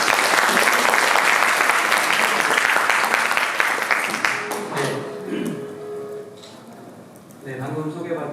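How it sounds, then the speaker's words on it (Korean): A forum crowd at a university startup session gives loud, dense applause to welcome a speaker, and the clapping fades out after about four seconds into a voice speaking. "큰 박수로 모시겠습니다."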